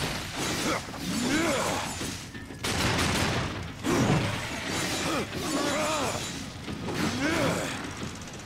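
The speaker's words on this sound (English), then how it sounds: "I like being able to shoot now." Gunfire and combat effects in the Darksiders video game, a dense, loud barrage of shots and crashes running continuously, with a game voice mixed in.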